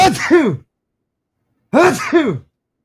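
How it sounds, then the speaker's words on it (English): A sneeze in two loud voiced bursts, a wheezy intake followed a second later by the explosive release, close to the microphone with silence between. "Oh, I'm about to sneeze."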